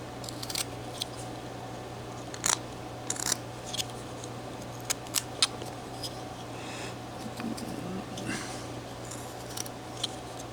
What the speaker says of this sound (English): So let me go ahead and cut that